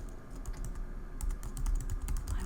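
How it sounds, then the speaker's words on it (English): Quiet typing on a computer keyboard, a steady stream of soft close keystrokes that grows a little busier partway through, with no voices. "I'm gonna type in"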